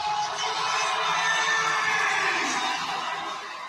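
Hockey arena crowd roaring and cheering continuously during a minor-league game, a dense wall of shouts and whoops holding loud and steady before easing slightly at the end.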